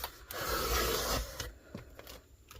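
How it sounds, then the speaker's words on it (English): A blade trimming excess vinyl from the sides of a tumbler, producing a close, steady rubbing scrape for about a second, then several shorter scratchy strokes that fade to quieter touches. "I'm going to start by trimming off all of the excess vinyl from the sides"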